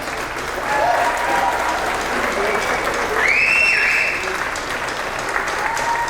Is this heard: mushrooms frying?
no